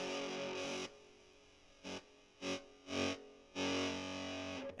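An electric guitar plays through an amp with heavy distortion: a long buzzing chord, then several short distorted stabs, then another sustained chord ringing out.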